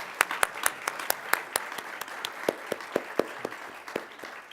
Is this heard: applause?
yes